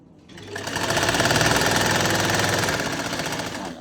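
A sewing machine stitches a side seam on a kurti, a rapid close mechanical chatter that winds up, runs steadily for a few seconds and then slows to a stop.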